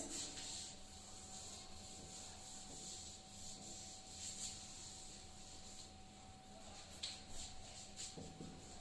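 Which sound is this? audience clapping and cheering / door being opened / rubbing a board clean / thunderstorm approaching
rubbing a board clean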